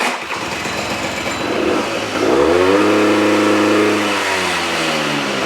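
A 1980s Honda Lead NH125 scooter engine revs up close, its buzzing drone climbing sharply in pitch, holding high, then easing off slightly, loud and with no one talking.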